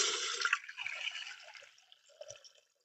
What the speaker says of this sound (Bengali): এবার আমি এই কুকারের মধ্যে পরিমাণ মতো দিয়ে দেবো জল